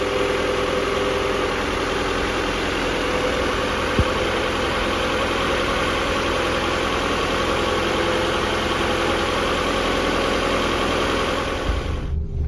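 A Nissan D21 pickup truck engine idles steadily after new spark plugs, a close, constant low rumble that holds unchanged for about twelve seconds before cutting off, with no talking.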